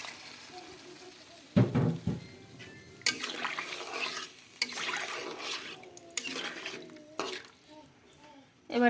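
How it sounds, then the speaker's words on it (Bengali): Water poured into a pan of sautéed potato and papaya curry, heard as a sudden splash and gurgle, followed by uneven bursts of sizzling and stirring at moderate loudness. "এবার দিয়ে দেব জল"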